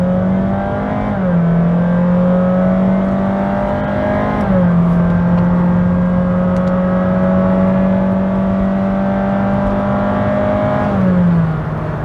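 A 2023 Honda Jazz e:HEV RS, a 1.5-litre dual-motor hybrid, drones loudly and steadily as it accelerates hard, its pitch stepping up and dropping back through a few distinct shifts.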